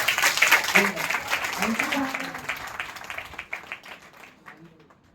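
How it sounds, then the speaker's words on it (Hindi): An audience at a Mother's Day event claps loudly for honoured women, a dense burst of applause that gradually fades out over several seconds, with a voice speaking over the start. "तो इन दीदियों के लिए भी जोरदार ताली बजाओ।"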